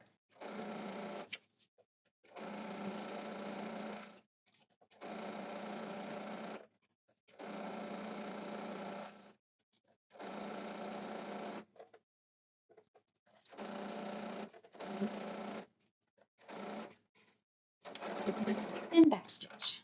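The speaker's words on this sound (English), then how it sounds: "I'm sewing my 5/8 inch seam, reverse." A home sewing machine runs a 5/8 inch side seam on a skirt, stitching forward and in reverse, heard as a series of separate steady whirring bursts of one to two seconds with brief pauses between them.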